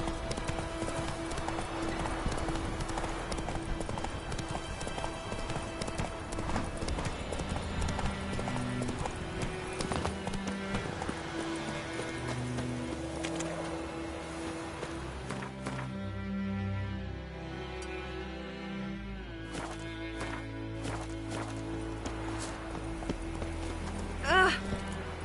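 Horse galloping in The Witcher 3, a continuous rhythmic clip-clop of hooves under game music throughout, with occasional speech over it.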